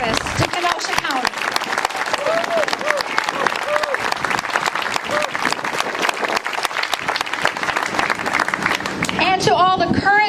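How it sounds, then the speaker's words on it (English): Steady, dense applause from an audience honoring long-serving county staff at the Kenosha County Courthouse centennial program, filling the room throughout with voices rising near the end. "please give them a huge round of applause for their decades of service to Kenosha County."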